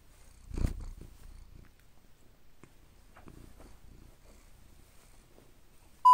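A kitten purrs close by in a quiet room, a soft low rumbling with a brief louder burst near the start, then faint intermittent purring and small rustles.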